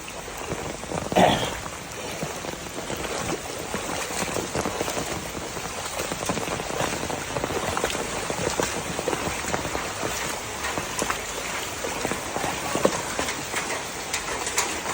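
Steady monsoon-flood rain in Jaffna, Sri Lanka, pattering continuously on surfaces, a dense hiss of drops throughout with one brief louder knock near the start.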